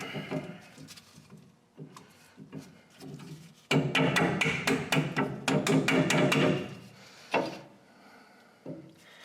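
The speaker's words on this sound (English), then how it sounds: "A little bit of rubber mallet action." A rubber mallet taps an outer rear brake pad into place on a Ford F-series truck, a quick cluster of dull knocks with metallic rattles between scattered handling clunks, close by and without speech.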